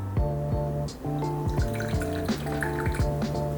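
Coffee poured from a French press into a cup, a close, quiet liquid stream with dripping and rising fill tones, lasting a few seconds with no talk.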